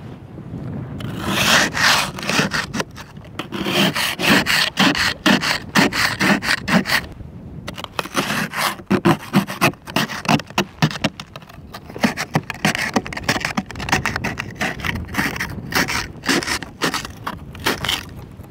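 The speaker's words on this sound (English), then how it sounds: "I'll turn it over now and we'll use the ice scraper edge" An ice scraper's edge grinding thick ice off a car in repeated rough strokes, loud and close, coming in irregular bursts with short pauses between them.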